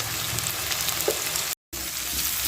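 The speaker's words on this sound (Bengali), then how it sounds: "এবার আমি আলুগুলোকে ভালোভাবে ভেজে নেব।" Potato pieces fry in hot oil seasoned with salt and turmeric, a steady, close sizzle that continues evenly, broken by a brief moment of silence.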